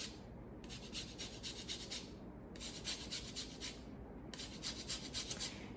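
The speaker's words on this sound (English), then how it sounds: "we'll quickly just zest this lemon" A lemon is zested with a hand zester in three bursts of bright, raspy scraping strokes, each a couple of seconds long and separated by short pauses, close up with no talking.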